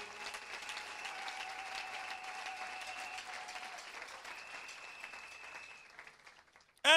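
A church congregation applauding, a steady wash of many hands clapping at moderate distance that continues for several seconds before tapering off, with a brief loud sound at the very end.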